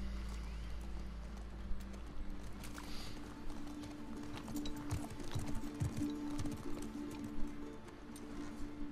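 Horse hooves clip-clopping in The Last of Us Part 2, a steady walking rhythm of fairly close hoofbeats with birds cooing and chirping in the background and occasional soft movement sounds.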